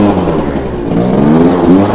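A scooter engine revs up and down close by, a rough mid-pitched drone that rises and swells with throttle over two seconds in cold weather, with no talk over it.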